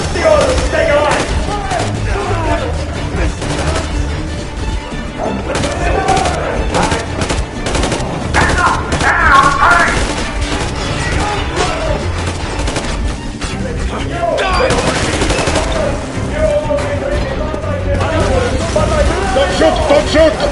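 Rapid gunfire fills a Metro: Exodus combat scene, with dense bursts of automatic shots and sharp impacts layered over a thick din of music and effects while voices shout throughout.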